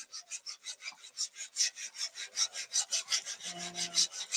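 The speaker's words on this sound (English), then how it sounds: "I'm just going to do a little bit of sanding" Sandpaper is rubbed by hand across a silver tray in quick, regular back-and-forth strokes, about twenty rasping passes in a steady rhythm, close and fairly soft.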